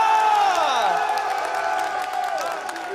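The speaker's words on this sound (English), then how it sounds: "The crowd has been cheering you on." Crowd at a Yu-Gi-Oh YCS London final cheering and whooping loudly, a sustained roar with shouting voices that slowly fades toward the end.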